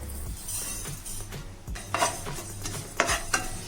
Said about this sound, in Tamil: இப்போ நம்ம இந்த சீரகத்தை நம்ம வறுத்துடலாம்